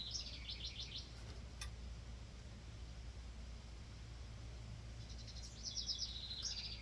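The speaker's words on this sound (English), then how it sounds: "I don't know what that bird is." Bright chirping bird calls in two bursts, at the start and near the end, over a steady low background hum; no voices.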